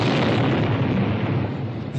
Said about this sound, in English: And then another and another explosion